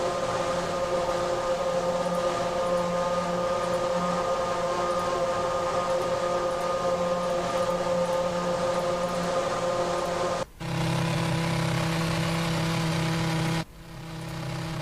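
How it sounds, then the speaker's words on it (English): Loud, sustained high-revving Formula One era race car engine in Assetto Corsa, a steady screaming tone that drops abruptly to a lower, rougher note with two brief cuts near the end, no talk. "This car's going to completely drown you out now."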